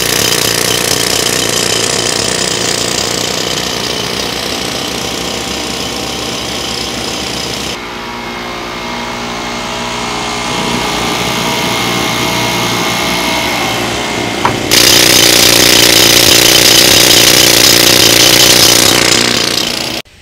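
A rotary hammer drill pounds and spins continuously at close range, a loud, dense rattling drone that shifts in pitch as the bit works into a wall, then surges louder again.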